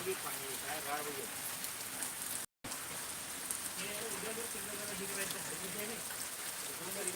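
Rain from a thunderstorm in the eastern Miraj area of Sangli district patters steadily throughout, with a brief dropout partway, while people talk over it.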